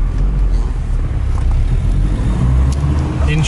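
A 1987 Toyota pickup with a Weber carburetor driving in traffic, its engine a loud, close, steady low rumble that swells slightly, with no backfires.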